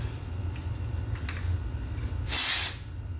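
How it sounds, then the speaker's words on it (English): Unite Texturiza texture spray misted onto hair roots: a single loud, breathy hiss of about half a second, close to the mic, over a low steady background hum. "we're going to take my Unite Texturiza spray and we're going to go in to the roots"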